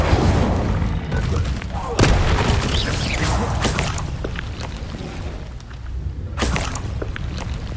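A fire spell cast in a Hogwarts Legacy style video game, with loud booming blasts and whooshing bursts, sharp hits near the start and again later over a dense background of combat noise.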